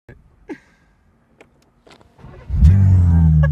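A BMW G80 M3 engine revs up loudly after a few seconds of quiet clicks and faint sounds, a deep droning rev rising near the microphone as the car is put into first gear with a struggling clutch.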